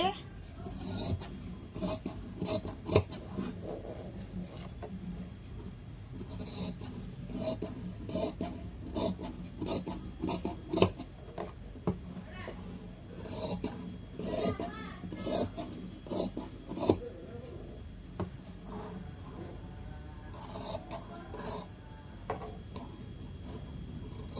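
Scissors snip and rasp through blouse fabric along drawn cutting lines, a steady run of soft crisp cuts with short pauses, close and fairly quiet.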